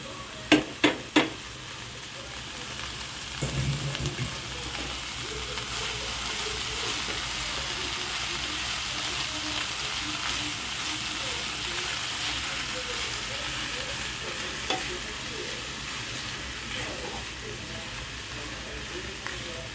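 Moringa leaves go into a hot pan and sizzle in a steady, moderate crackle, opening with a few sharp clinks of utensils against the pan, and a soft voice is heard faintly.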